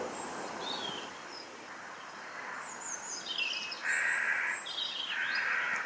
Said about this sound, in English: I've seen that carrion crow in the conifer several mornings.